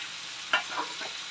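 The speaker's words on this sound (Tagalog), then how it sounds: "ngayon, ilalagay na natin yung sauce na pinang-marinate natin kanina." Marinade sauce poured into a hot pan with salmon and bok choy, giving a soft, steady sizzle with a brief louder splash near the start, heard alone without any voices.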